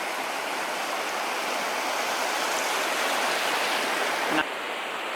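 Small waves of about one and a half to two feet crest and wash onto a Bay of Fundy beach at low tide, a steady broad surf rush with one brief louder splash near the end.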